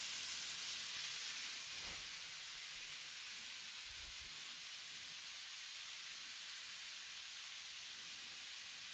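Food sizzles and fries in a pan during an impromptu home cooking session, a steady, close, bright hiss with a couple of faint low thumps and no talking.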